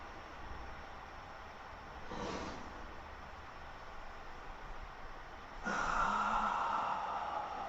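Exaggerated breaths drawn through a tightened throat during a breathing exercise: a short raspy inhale, a pause, then a longer, louder hissing exhale, close and without speech.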